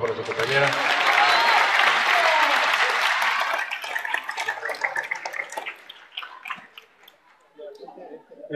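An audience applauds a speech contest winner at a youth expression competition, with loud clapping that thins into scattered claps and faint voices.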